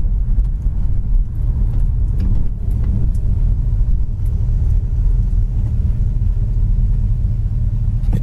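A 1967 Plymouth Belvedere with dual exhaust drives along a road, a steady low rumble of engine and tyres heard from inside the car, quiet and even throughout.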